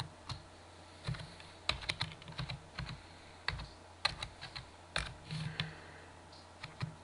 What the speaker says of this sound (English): Which you type in the email address that you want to put in.